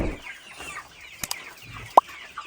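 Master Grey roosters in a home poultry yard cluck and murmur softly, with a couple of sharp brief clicks or wing flaps breaking the low, close chatter.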